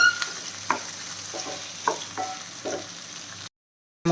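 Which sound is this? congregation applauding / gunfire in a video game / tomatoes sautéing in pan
tomatoes sautéing in pan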